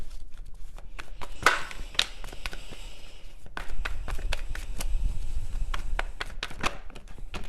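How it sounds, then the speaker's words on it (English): Tarot deck being shuffled by hand, a close series of sharp card taps and riffles with soft rustling and thumps between them, no voice over it. "let me give this a quick shuffle here"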